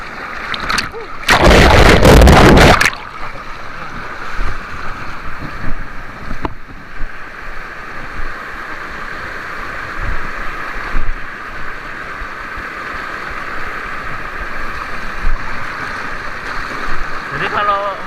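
A fast-flowing river on a trekking route in South Aceh rushes as a steady broadband roar, with a loud splashing surge early on, while a voice talks over the water.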